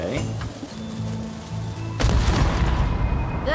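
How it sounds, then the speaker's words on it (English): A heavy cannon blast in the video game Return to Monkey Island booms about halfway through, followed by a loud rumbling roar, with background music playing beneath. "Ready for cannon firing."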